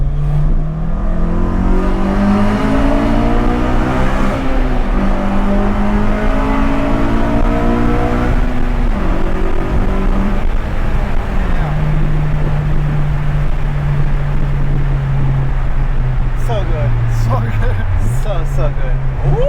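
A modified 2011 Honda CR-Z with an altered engine and exhaust drives through a tunnel, its loud, steady engine note droning and shifting pitch through gear changes, reverberating continuously with people talking over it.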